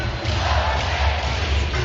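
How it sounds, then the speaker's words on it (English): A basketball crowd at a summer league game roars and applauds, a dense, steady wall of cheering and clapping filling the arena for a couple of seconds. "Some applause going."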